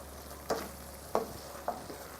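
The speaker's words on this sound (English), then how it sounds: "Just stir it into the masala mixture so that it becomes part" Okra and orange-fleshed sweet potato being stirred into a masala mixture in a pan, three distinct scraping strokes over a low steady sizzle, with no talking.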